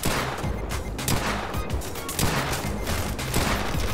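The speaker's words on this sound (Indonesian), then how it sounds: "namanya juga pistol cuy." Pistol gunfire in the mobile shooter game Vice Online during a deathmatch, game shots popping one at a time amid dense, continuous in-game noise and effects throughout.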